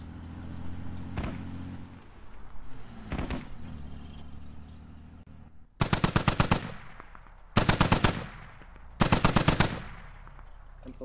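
Automatic gunfire in the military shooter Squad during a large one-life event: three loud rapid bursts, each about a second long, crack out close, following softer distant shots and a low engine rumble.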